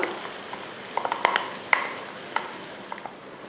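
Ground masala with potato and tomato sizzles softly in oil for egg curry, with a few light spoon taps and clinks against the pan, close and fairly quiet.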